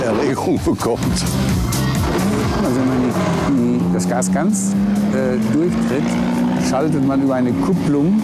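A very old supercharged Mercedes race car engine drones and rises in pitch as it is driven, loud and close, with someone talking over it throughout.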